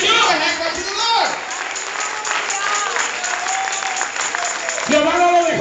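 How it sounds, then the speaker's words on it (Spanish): A church congregation applauds the Lord during a Spanish-language sermon, clapping and cheering steadily while a preacher's voice rises over the crowd at the start and again near the end. "Que den un aplauso al Señor."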